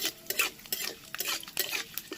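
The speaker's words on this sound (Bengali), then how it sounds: "দুটো তেজপাতা দিলাম ছেড়ে দিয়ে দিচ্ছি দারচিনি আর একটু পাঁচফোড়ন এগুলোকে ভালো করে ভেজে নেব" Bay leaves, cinnamon and panch phoron spices fry in a pan, heard as several close, distinct scraping stir strokes of a spatula against the pan over a faint sizzle.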